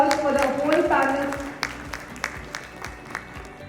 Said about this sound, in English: Can we have a huge round of applause for the whole panel?